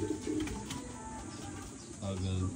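Pigeons cooing in a breeding loft, low repeated coos blending with bird chatter throughout, growing fuller near the end with a steady murmuring background.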